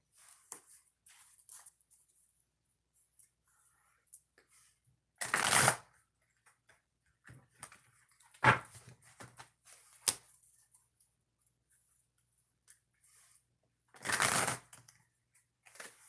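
A few brief bursts of oracle cards being shuffled, separated by quiet stretches with faint handling noises in between.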